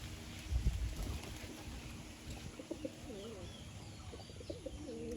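Racer pigeons coo softly at close range, with repeated low, rolling calls over a faint background hum and a brief rustle near the start.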